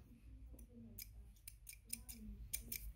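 Scissors snip thread on a sewing machine during a product demonstration, giving a series of crisp, close, quiet cuts at an irregular rhythm against a faint low background hum.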